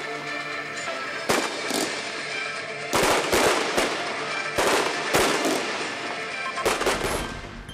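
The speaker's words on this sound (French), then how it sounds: "Plus de 500 personnes ont pu admirer un magnifique feu d'artifice tiré en parallèle d'un documentaire retraçant les 4 années de la Grande Guerre." Fireworks burst over a centenary sound and light show marking the Great War, with repeated loud cracks and booms in separated clusters against a constant background roar from a distance.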